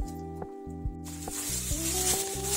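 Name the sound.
oil sizzling in frying pan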